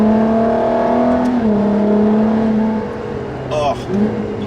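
A Ferrari LaFerrari's engine in Sport mode giving a short throttle blip, a steady close tonal drone that rises and falls in pitch, with a brief sharper burst near the end.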